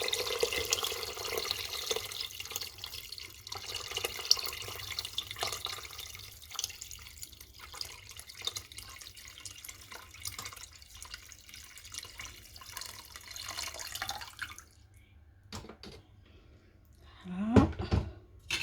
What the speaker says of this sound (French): Donc là il faut mettre 2 litres d'eau environ.